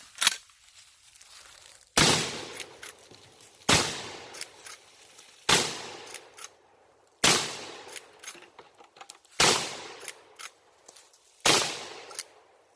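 A Chiappa 1887 Mare's Leg lever-action shotgun fires buckshot at a bucket outdoors, six loud sharp blasts spaced about two seconds apart, each with a ringing decay and lever clatter between shots.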